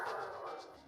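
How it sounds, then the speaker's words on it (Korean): A Doberman at a factory complex in Anyang, Gyeonggi Province, gives a single short bark, heard alone and at moderate distance. "입구에서부터 개 짖는 소리가 울려 퍼지는데요."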